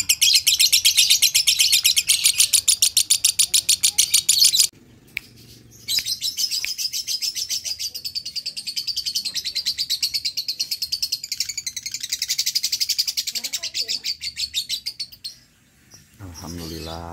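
A three-month-old young lovebird chirps in rapid, rhythmic bursts of high-pitched tweets, close and loud, pausing briefly before resuming, with faint background talk.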